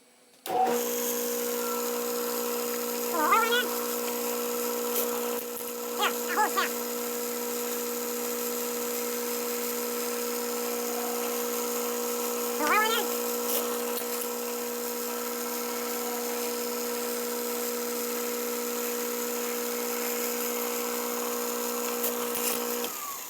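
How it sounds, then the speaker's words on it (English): A Tapmatic tapping head on an arm extension bracket cuts 1/4-20 threaded holes, a steady motor whine under which a few brief rising and falling whirs mark each hole, with no speech. "So I just tapped 3/4 20 holes in a matter of seconds."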